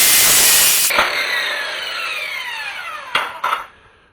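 A power saw rips through a wooden board in a garage during a DIY chimney cricket build, loud broadband cutting for about a second, then the blade whining down, followed by a couple of sharp knocks near the end.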